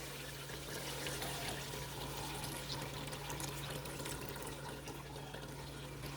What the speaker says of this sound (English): The egusi is dried enough for me to introduce the meat stock.